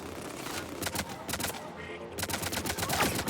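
Sniper gunfire in the Mass Effect 3 video game, with a rapid series of sharp shots and impacts in irregular bursts, fairly faint under other game effects.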